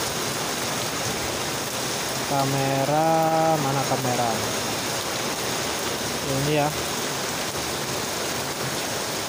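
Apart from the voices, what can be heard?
rain falling outdoors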